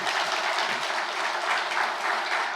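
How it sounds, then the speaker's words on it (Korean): A church congregation applauds at a retirement service for a pastor, a steady, even wash of clapping from many people, fairly soft and unbroken throughout. "박수로 좀 격려해 주시면 감사하겠습니다"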